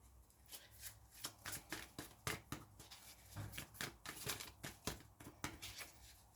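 Quiet, close card shuffling, a rapid series of crisp riffling bursts repeating irregularly throughout with no talking.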